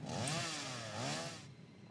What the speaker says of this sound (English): So we're going to use the chainsaw.